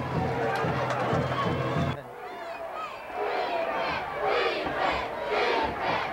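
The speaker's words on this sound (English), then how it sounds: "Crowd calling for defense as the officials change footballs" A football stadium crowd chants loudly and continuously for the defense during a break in play at a game involving Hart County, a dense roar of many voices that dips briefly then swells again.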